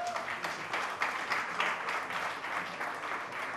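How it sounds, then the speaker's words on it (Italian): Audience applause at a live performance in a literary café, a steady wash of many hands clapping that holds at even strength from start to finish with no voices on top. "Vorrei fare altri grandi applausi per i miei compagni d'avventure."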